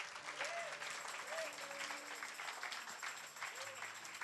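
A church congregation at a Sunday service applauds for the king of kings, sustained crowd clapping throughout while a voice calls out over it at intervals.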